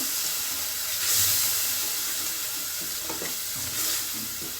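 Masala for a bottle gourd gravy sautés in hot oil, giving off a steady, close sizzling hiss broken by soft scraping stirs of a spoon in the pan.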